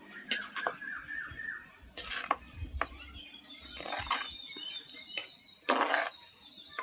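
A metal spoon stirs kuppaimeni (Indian nettle leaf) sambar in a pot, giving scattered faint clinks and scrapes against the vessel in an irregular rhythm.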